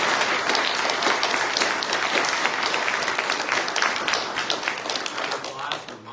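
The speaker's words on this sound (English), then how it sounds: "Let's give a round of applause." Loud, sustained crowd applause at a military retirement ceremony, dense steady clapping filling the whole stretch and tapering slightly at the end.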